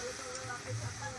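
Faint, steady sizzle of spring onion greens and other vegetables frying in hot oil for a dried-fish dish, with soft stirring scrapes beneath.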